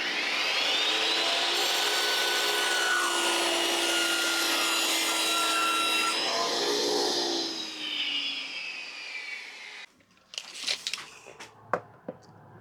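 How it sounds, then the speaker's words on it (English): A saw cuts a wooden board for a shelf of a little free library, giving a loud, steady whining cut for about eight seconds that then winds down, followed by a few sharp knocks and clatters. "So I need to trim it down to 10 inches, which is the depth of my library, and then cut the width after that."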